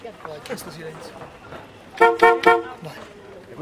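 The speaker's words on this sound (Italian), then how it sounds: "E questo è normale, il clacson." A car horn sounds in short honks, a couple of toots close together near the middle, with traffic and voices around it at a meeting of old and new cars.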